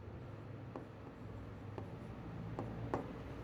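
Chalk or marker taps and strokes on a classroom board as a word is written, a few faint, sharp ticks spaced about a second apart over a low room hum, with no talk.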